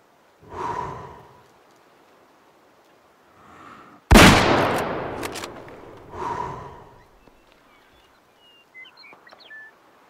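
A single sharp hunting rifle shot rings out in the Way of the Hunter video game, aimed at a Cape Buffalo, followed by a lingering echo and faint breathy sounds before and after.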